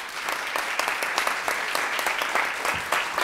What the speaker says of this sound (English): A round of applause for our guest musicians who are with us